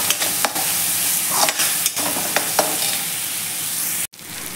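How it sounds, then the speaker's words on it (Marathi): Ground masala paste stirred into onions and garlic sautéing in a pan for Maharashtrian dry dal, a close steady sizzle broken by spoon scrapes and stirring clanks, with no talk. "आता आपण त्यामध्ये हे वाटण घालून घ्यायचं आहे आणि हे देखील या कांद्यामध्ये छान असं व्यवस्थित मिक्स करून घेऊयात"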